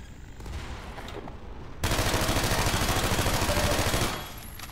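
Grenade thrown at unstable material in Half-Life 2, with a sudden loud blast followed by a dense rattling burst of rapid fire-like crackle lasting a couple of seconds before easing off.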